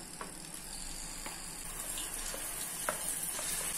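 Onion and tomato paste with Kashmiri red chili powder fries in hot oil for a restaurant-style kadai paneer, giving a steady close sizzle broken by a few brief stirring clicks.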